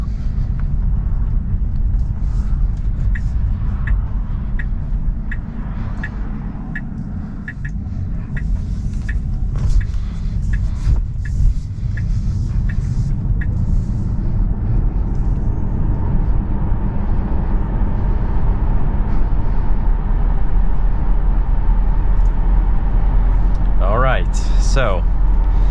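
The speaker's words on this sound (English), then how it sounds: "take this 2022 Tesla Model 3 Performance on a test drive with this steering wheel" Inside a 2022 Tesla Model 3 Performance on the road, a constant low rumble of tyre and road noise fills the cabin, steady and moderately loud, with a faint chime near the end.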